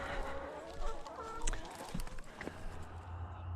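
Chickens let outside the fence cluck and murmur softly outdoors, some short calls standing out over a low background hum.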